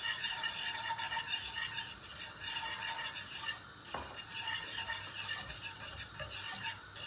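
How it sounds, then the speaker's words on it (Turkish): Spoon stirring flour as it roasts in a soup pot, quiet scraping and soft clinks against the metal with a faint sizzle, close and without voices. "Unumuzu şöyle bir kavuracağız."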